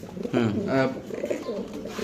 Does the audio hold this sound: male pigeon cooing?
yes